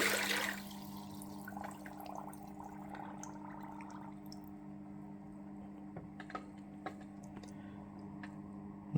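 A steady low motor hum from a Hydor internal aquarium filter drones underwater throughout, with faint bubbling and occasional soft ticks around it.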